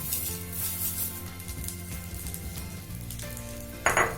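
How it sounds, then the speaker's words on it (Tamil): Red poha (flattened rice) roasts on low heat in a kadai, a steady soft crackling sizzle with occasional stirring scrapes, close, and a brief louder clatter near the end. "சேர்த்துட்டு சிம்ல வச்சு இதை நல்லா வந்து வறுத்துக்கலாம்."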